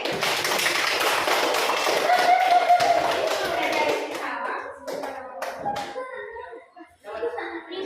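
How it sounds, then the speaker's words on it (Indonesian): A children's primary school class breaks into dense, enthusiastic clapping that fills the room, fading out after a few seconds as a voice and light chatter take over. "Ayo beri tepuk tangan dulu"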